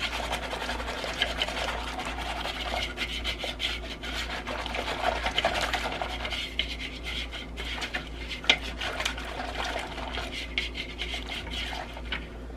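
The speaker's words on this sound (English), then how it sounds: "Now we're going to put the chia seed and the psyllium in there. And we're going to mix that up really well." Chia seed and psyllium being mixed for keto bread, a steady scraping, rubbing stir throughout with a low constant hum underneath and occasional clinks.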